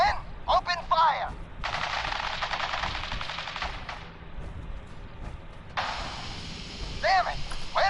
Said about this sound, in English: Stop or we'll shoot. Men, open fire.